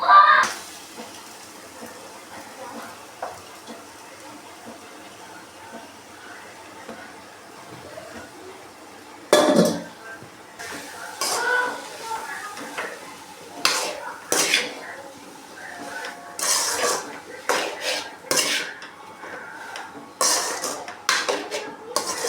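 Utensil scraping and clinking as small tubers (siru kizhangu) are stirred in a pan with salt, scattered metallic knocks that grow busier toward the end, close by, with no talk.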